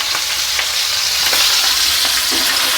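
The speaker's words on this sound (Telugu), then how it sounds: "ఈ పచ్చిమిర్చి వేపుకునేటప్పుడు జస్ట్ కొద్దిగా ఉప్పు వేసుకుందాము" Green chilies fry in hot oil for jowar chivda, giving a loud, continuous close-up sizzle with faint stirring scrapes and no talking.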